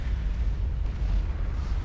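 A deep, sustained rumbling blast from bombs detonating together in the strategy game Forged Alliance Forever, loud and heavy in the low end and rolling steadily for the whole stretch.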